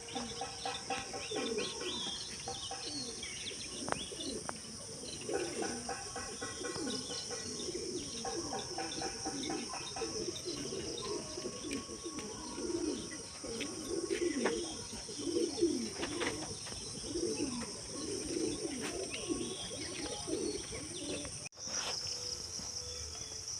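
Young home-kept pigeons out on a morning flight coo in steady, overlapping low rolls, with other birds chirping, crickets trilling throughout, and a few sharper brief bursts scattered through.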